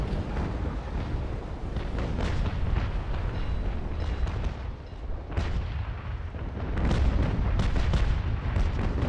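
Ship cannons boom repeatedly during a Naval Action port battle, heavy irregular blasts rolling over one another at close range, with a louder cluster of shots toward the end.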